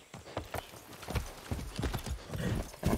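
Hoofbeats of a galloping horse in the video game Far Cry 6, a loud, quick run of clip-clops with a brief whinny, close and alone without talk.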